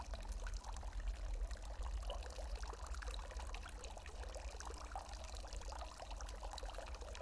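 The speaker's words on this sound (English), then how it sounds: "you can hear the sound of running water coming from a room to the west" Running water ambience for a tabletop game scene, a steady pouring and trickling wash that stays constant and fairly loud throughout without any talk over it.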